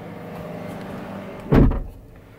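A single short thump as the glove box latch of a Volvo XC90 releases and the lid drops open, following a quiet stretch of low engine hum.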